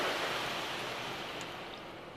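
Ryko Radius in-bay car wash spraying rinse water over a car at a BP station, a steady rushing hiss heard from inside the vehicle, constant and fairly quiet with no talking.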